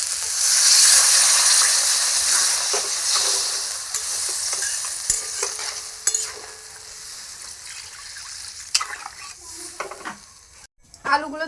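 Braised chicken for biryani hissing and sizzling loudly in a pot as water goes in, the sharp sizzle fading into softer bubbling, with a few clinks of a spoon against the pot.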